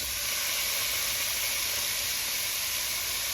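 Beef hitting an oiled skillet for an Irish beef stew gives a loud, steady, close sizzle and hiss, a broad bright wash of frying noise sustained without break and with no talk.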